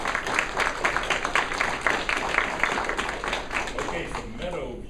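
Crowd at a youth appreciation and recognition ceremony clapping steadily, a sustained wash of applause from many hands that tapers off at the end while a voice speaks faintly.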